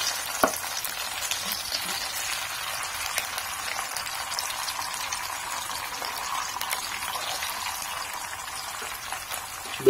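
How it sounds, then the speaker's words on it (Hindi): Sardines fry in a pan of hot oil with a steady, dense crackling sizzle that holds evenly throughout, close up and with no talking. "तो मछली बिल्कुल थोड़ी मैं फ्राई कर रहा हूँ"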